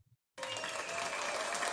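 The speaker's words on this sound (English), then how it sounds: "a bit of a delay there in the applause" Applause played as a sound effect on a podcast, bursting in abruptly after a moment of silence and a brief low murmur, then a dense, steady clapping crowd that holds at even loudness.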